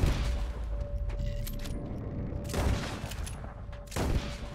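Gunshots in Red Dead Redemption fired at a hanging rope, with a few loud, sharp cracks spaced a second or two apart over low background noise.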